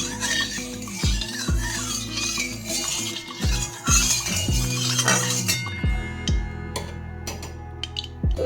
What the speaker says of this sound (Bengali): কড়াইয়ে তেল দিয়ে দিয়েছি এবার চারিদিকে তেলটা নাড়িয়ে নেবো